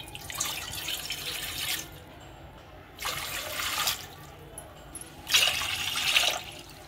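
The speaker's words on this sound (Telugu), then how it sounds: "ఇందులో కొలత ప్రకారం వాటర్ వేసుకుందామండి" Water is poured by the glassful into a cooking pot for steamed broken-rice rava jaggery kudumulu, coming as three separate splashing pours, each one to two seconds long, with quiet pauses between them.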